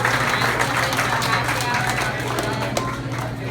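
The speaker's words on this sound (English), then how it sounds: "A big round of applause for Mark." A crowd at a Houston gathering gives Mark Rodriguez a round of applause: dense, steady clapping fills the whole stretch at even loudness, with chatter mixed in.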